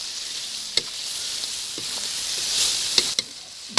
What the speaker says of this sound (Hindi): और फिर हम इसको और भूनेंगे मज़ीद।